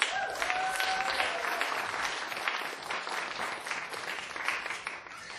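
Sustained applause from an audience at a Sunday Assembly gathering in Pittsburgh, a dense steady wash of many clapping hands lasting throughout, moderately loud and without speech.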